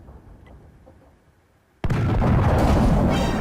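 Tank cannon fires in the World of Tanks video game, a single sudden loud boom after a quiet stretch, followed by a sustained roaring rumble that fills the rest of the moment.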